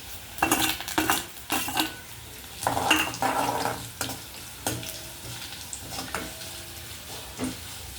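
Curry leaves hit hot oil with fried garlic in a tempering, giving close, crackling sizzles with sharp bursts and clatters of a spoon against the pan, fading to a steadier fry.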